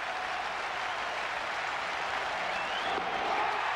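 Baseball stadium crowd at Game 3 of the 1992 World Series, Blue Jays versus Braves, cheering and applauding in a loud, steady roar that holds without a break and swells slightly near the end.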